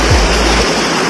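Loud, steady rush of cold river water splashing around people bathing in a village river, a continuous close wash with heavy low rumble in the first half that thins out toward the end.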